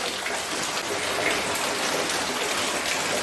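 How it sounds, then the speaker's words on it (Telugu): Heavy rain pours down on a village house, a dense and loud hiss of drops beating steadily without pause, with no voices heard. "వర్షం అయితే బాగా కొడుతుంది ఫ్రెండ్స్"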